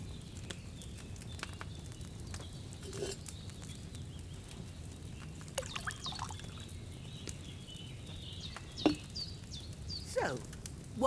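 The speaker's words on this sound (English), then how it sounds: "First, you have to pour the right base into the cauldron." Wine is poured from a pitcher into a cauldron in Kingdom Come Deliverance 2, a soft, faint trickle set under quiet ambience with a few light knocks and clinks.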